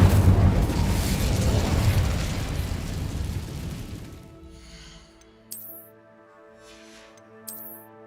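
A fiery Incendio spell blast from Hogwarts Legacy roars loud and broad for about four seconds, then fades into quiet game music with a couple of small chime-like accents.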